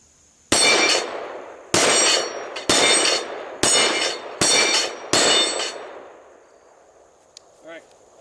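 Six loud rifle shots ring out in a steady rhythm, each striking a steel plate rack with a bright metallic clang, the reports echoing and fading into quiet afterward.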